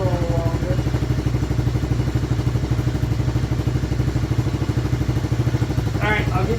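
A 110cc pit bike engine idles after a cold start, a fast, even, close-up putter with mechanical clatter running throughout, and a voice briefly breaks in near the end.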